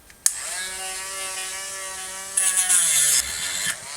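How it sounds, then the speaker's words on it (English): A Dremel with a cutting disc slots a small wooden crankbait lure. The high rotary whine starts with a click, its pitch dips as the disc bites, a harsher grinding burst follows, and the tool spins down. It is close and nobody speaks. "I cut the slot just with the Dremel disc"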